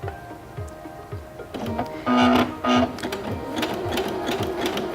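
A Singer Featherweight C240 sewing machine runs at its lowest speed, giving a steady, close, rhythmic stitching chatter throughout, with a brief louder whir midway.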